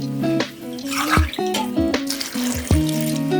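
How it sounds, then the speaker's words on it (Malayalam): Water pours and splashes into a cooking pot of jackfruit in uneven bursts, with ringing, gurgling tones as it hits the vessel, close and fairly loud. "അതിനാവശ്യമായ വെള്ളം ഒഴിക്കുകയാണ്"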